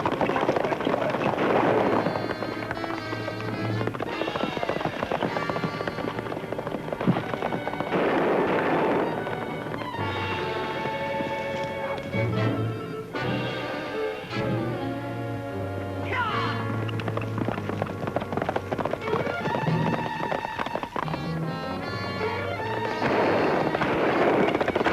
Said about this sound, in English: they're shooting at us